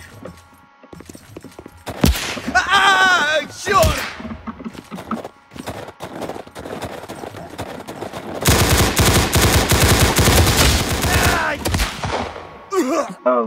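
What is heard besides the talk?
gunshots in Roblox video game Unit: Classified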